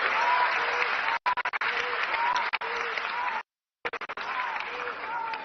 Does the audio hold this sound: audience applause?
yes